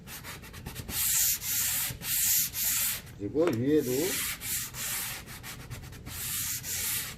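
Steady rhythmic sandpaper scraping back and forth in repeated strokes over body putty on car bodywork, close up, with a short voice remark partway through.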